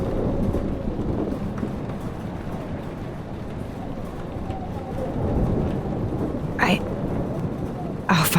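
Thunderstorm in the video game Life Is Strange Remastered: steady rain hiss with low rolling rumble, a couple of sharp bright crackles near the end, and a muffled voice faintly underneath.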